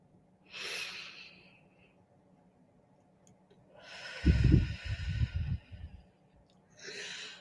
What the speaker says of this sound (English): I want each and every one of you to take in a big, deep breath